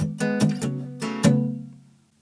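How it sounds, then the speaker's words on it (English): Palm-muted electric guitar strumming the chords of a song, a short run of chugging, damped strokes in a steady rhythm, fairly close, ending with a fading ring and no voices. "same chords, but we're just going to palm mute"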